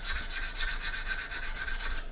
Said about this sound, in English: Then we can come in with a sander. Okay, and we're just going to sand down.